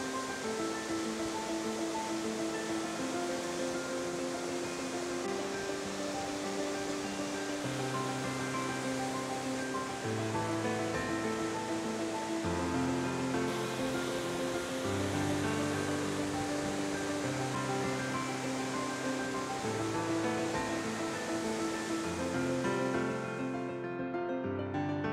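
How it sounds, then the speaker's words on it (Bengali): A waterfall at Jowai in Meghalaya roars as a steady, dense wash of rushing water, loud and unbroken throughout, with a musical tone layered over it. "আর এই যে দেখুন ফলস।"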